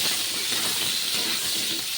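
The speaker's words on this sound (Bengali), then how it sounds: "এখন আলু আর মিষ্টি কুমড়োগুলোকে ভালো করে ভেজে নেব" Pieces of potato and pumpkin fry in oil in a home kitchen, producing a soft, even hiss that stays steady and fairly quiet throughout.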